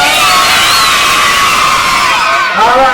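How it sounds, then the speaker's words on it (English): A loud outdoor crowd in Jamaica cheering, whooping and shouting for a Spiderman performer, with children's high voices rising above a continuous roar that dips briefly near the end before swelling again. "Give Spiderman a big round of applause, please."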